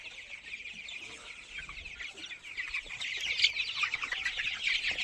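Chickens cluck and chatter steadily on a winter morning, a dense, continuous flock sound that builds slightly toward the end, with no talking.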